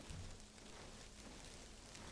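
Steady rain patters down in the Arma 3 game world, a soft continuous hiss of drops on the ground with no breaks, faint and even throughout.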